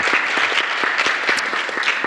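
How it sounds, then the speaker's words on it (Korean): An audience at a youth forum session on refugees claps briefly. The applause is close, steady and dense, with individual hand claps audible through the short burst. "다음으로 박수 한번"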